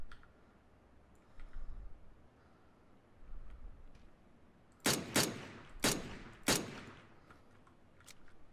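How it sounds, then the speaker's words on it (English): Pistol gunfire in a solo pistols-only video game round: four sharp, loud shots in quick succession near the end, with faint ambient game noise before them. "That was some terrible shooting, though."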